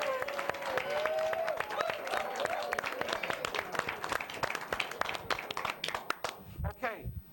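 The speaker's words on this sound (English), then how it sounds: "Can we have a round of applause for" An audience applauds a guest on a midnight talk show, with dense clapping that continues steadily and fades near the end while a voice talks over it.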